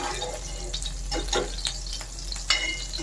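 Dried prawns sizzle and crackle in a hot pan, with bursts of scraping as they're stirred at uneven intervals, up close and fairly loud.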